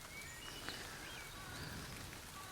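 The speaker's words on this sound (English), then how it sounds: "Come on, kids. You're missing the rain." Soft, steady rain falling outside, a faint continuous patter of drops on surfaces with no voices, only a distant bird-like chirp briefly audible.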